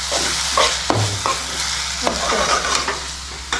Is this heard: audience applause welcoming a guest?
no